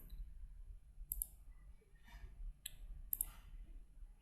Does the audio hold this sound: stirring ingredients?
no